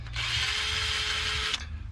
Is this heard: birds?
no